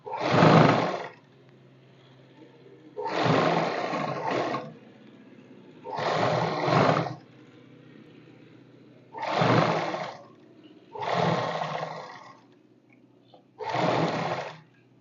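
Sewing machine stitching the finishing seam on a kurti neckline, running in six short whirring bursts of about a second each, separated by pauses, close and clear with no talking.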